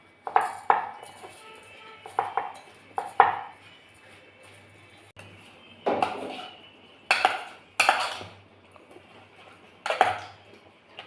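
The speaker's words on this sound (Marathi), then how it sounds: "मग नंतर याला मिक्स करू" Koshimbir salad being mixed with sugar and spices in a bowl, heard as a series of separate close clatters and scrapes of a spoon against the bowl, in irregular bursts with quiet gaps between them.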